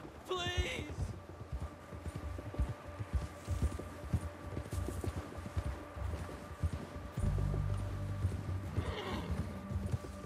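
Rhythmic hoofbeats of a video game horse moving at pace, with a neigh near the start and another later, steady and close with a low hum underneath.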